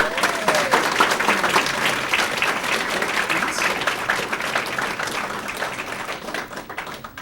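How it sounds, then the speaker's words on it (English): Audience applause at a school board meeting honoring medal winners, a full crowd clapping steadily and close, slowly tapering toward the end, with faint voices mixed in. "Big round of applause for these."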